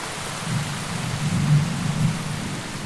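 Heavy tropical rain pouring over the equatorial forest of Gabon during the rainy season, a dense steady hiss with low rolling thunder rumbling underneath, swelling slightly midway, loud and enveloping with no voices.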